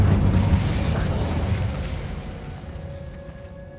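The Incendio fire spell cast in Hogwarts Legacy makes a loud burst of whooshing flame with booming low rumble that slowly dies away over a few seconds, with a faint tone lingering at the end.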